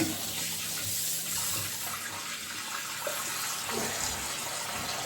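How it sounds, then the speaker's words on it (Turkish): Water runs and splashes steadily into a sink while preparing to shave, a continuous close rushing flow with no talk. "Şimdi suyumuzu atıyoruz."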